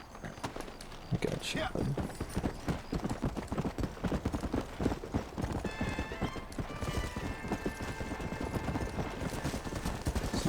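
Horse hooves clip-clopping in Red Dead Redemption, a steady rhythmic gallop running throughout, with a brief whinny and someone speaking over it partway through.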